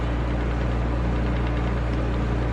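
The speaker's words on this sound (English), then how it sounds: "AC unit popped on" A household air conditioning unit runs with a loud, steady hum and broadband whooshing that stays constant throughout, close by and with no other sounds.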